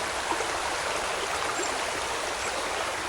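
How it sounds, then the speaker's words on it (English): A rain-swollen river rushes in a dense, steady roar of water that stays loud and even throughout, with no voices. "the rain-swollen river roared violently"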